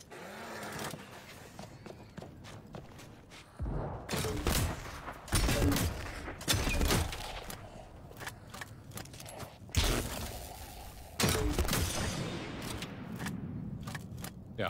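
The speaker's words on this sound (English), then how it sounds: "It's shotgun ammo, but it literally sounds and feels like it's shooting rockets." Shotgun fire in a video game, the shotgun using shells that behave like rockets, heard as several loud, booming bursts with rumbling tails, separated by quieter stretches of mechanical game sounds.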